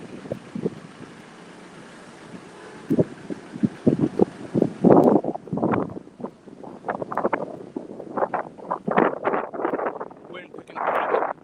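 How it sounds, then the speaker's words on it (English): Gusty wind buffets the microphone outdoors in bursts of rumbling noise that grow stronger and more frequent as it picks up, with a steady hiss in the first half. "Wind picking up."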